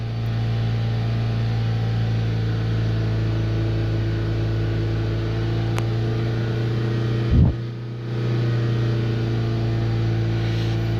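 An overheating Chevrolet Astra engine is held at raised revs with its radiator fans running, a loud, constant close-up hum with a brief dip and knock partway through.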